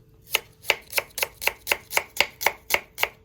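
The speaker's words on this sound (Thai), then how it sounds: "ตอนแรกนะคะเขาก็หั่นหอมแดงก่อนเด้อพี่น้อง" A knife chops red shallots on a cutting board while a Thai ant-egg salad is prepared, giving about eleven crisp, evenly spaced strikes close to the microphone with no talking.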